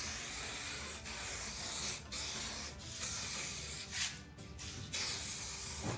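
An aerosol can sprays red paint onto a Jeep Wrangler JL part in wide fanning passes, giving close, breathy hissing bursts with short gaps about every second, and no voices.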